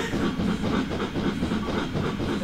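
A steam train engine in a video game runs with a steady, loud rumbling chug and hiss throughout, with a faint rhythmic clatter and no pauses.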